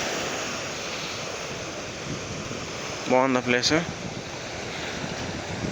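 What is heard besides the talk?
sea waves breaking on a beach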